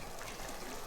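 Milk pouring into a pot of Pakistani doodh patti tea with tea bags and crushed cardamom, a steady continuous liquid rush that stays even and fairly quiet throughout, with no voices over it.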